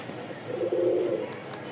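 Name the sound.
Rajshahi Giribaz pigeons cooing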